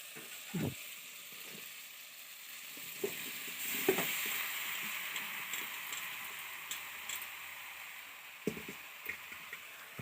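Mushrooms added to softened tomatoes frying in a home kitchen pan for a mushroom and field bean gravy, with a steady low sizzle and scattered clinks and scrapes of stirring.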